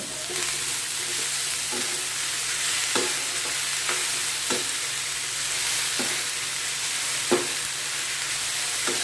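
Veg Chinese noodles seasoned with ajinomoto are stirred in a hot pan, producing a continuous sizzle with rhythmic scraping strokes of the utensil every second or so.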